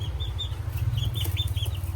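Chickens cluck and peep nearby in short repeated calls over a steady low rumbling hum.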